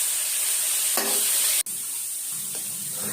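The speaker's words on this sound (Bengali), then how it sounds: "পেঁয়াজ রসুন তেলে দিয়ে ভাজা ভাজা করে শাকটা এবার সম্বরা দিয়ে নিচ্ছি।" Greens are tempered in hot oil with fried onion and garlic, giving a steady close hiss of frying. A brief stir-like break comes partway through.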